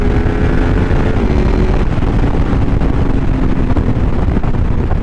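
A 2016 Honda VFR touring motorcycle with panniers revving hard while riding, a steady loud engine drone under heavy wind rush with a slight shift in pitch partway through.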